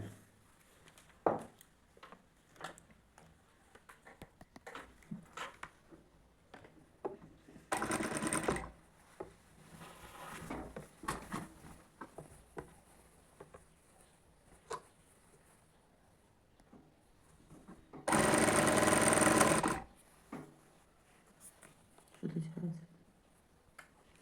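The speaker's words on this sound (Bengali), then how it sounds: "সেলাই করছি" A sewing machine stitches a nighty in two short loud bursts of a couple of seconds each, separated by long stretches of fabric handling and soft clicks, with someone talking between runs.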